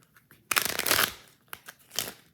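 A deck of playing cards is shuffled close up: a loud riffling burst of rapid card flutter, followed by a few softer taps and a short second riffle, with no talk.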